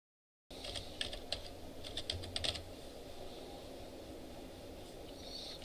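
Computer keyboard clicking in a classroom as a SQL query is typed, a quick burst of keystrokes followed by quieter room noise.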